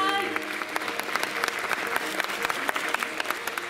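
Audience applause at a Miss World Japan Kyoto award ceremony, a dense continuous patter of many hands clapping at moderate level with no talking over it.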